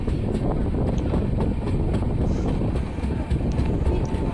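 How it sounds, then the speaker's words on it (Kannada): The Mysore–Chennai superfast express rolls into Ramanagara railway station, a continuous low rail rumble heavily buffeted by wind noise throughout, with no voices. "ನಮ್ಮ ಟ್ರೈನ್ ಈಗ ರಾಮನಗರ ರೈಲ್ವೆ ಸ್ಟೇಷನ್ ಒಳಗೆ ಎಂಟ್ರಿ ಆಗ್ತಿದೆ"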